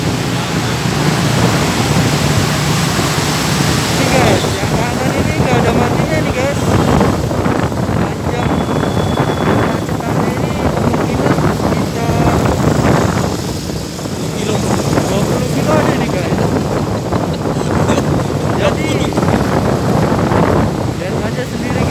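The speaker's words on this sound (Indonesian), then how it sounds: "Jadi bunyi ini hujan apa gitu." A rain-like hiss heard from inside a car stuck in traffic jam forms a dense, steady wash of noise that fills the whole stretch, with quiet talk under it at times.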